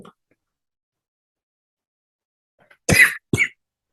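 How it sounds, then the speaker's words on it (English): Two sharp coughs close together near the end, the first longer and harsher, the second shorter, loud and close after a stretch of near silence. "Had a bit of a cough there."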